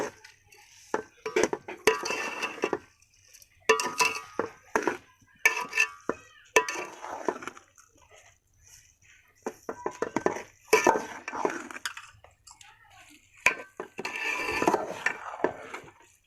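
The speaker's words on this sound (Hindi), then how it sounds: "चीनी डालने के बाद हम इसको अच्छे तरीके से मिक्स करेंगे।" Sugar being mixed into carrot halwa in a pan with a spoon, heard as repeated clinking scrapes and stirring scratches against the pan in bursts separated by short pauses, close and fairly quiet.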